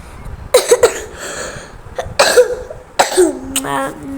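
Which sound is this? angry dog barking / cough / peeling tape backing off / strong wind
cough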